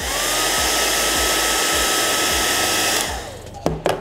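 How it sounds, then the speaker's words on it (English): A hair dryer blows with a loud, steady roar for about three seconds, heating a piece of nitinol alloy, then switches off, leaving a few light clicks. "if we get our hairdryer out and heat it up"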